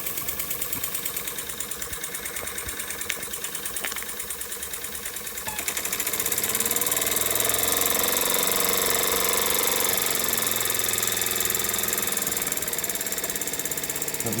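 A Jensen Model 25 toy steam engine runs with a fast mechanical chatter and clatter, joined about midway by a louder steady hiss of steam that continues to the end, close and without any talk.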